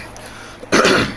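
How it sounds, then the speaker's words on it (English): One person gives a single short, loud throat clear up close, a rough burst after near silence. "sorry, gotta clear my throat"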